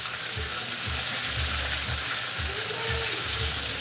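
Chicken pieces fry in hot oil, giving a steady, close sizzle throughout, with faint low knocks and stirring from turning the pieces.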